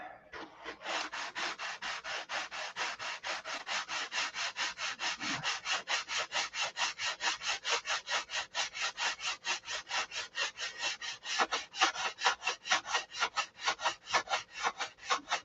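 Sanding over dried glue on a Sig Magnum turtle deck, a rapid, even back-and-forth scrape with a gritty crunch on each stroke, growing more pronounced and rhythmic toward the end.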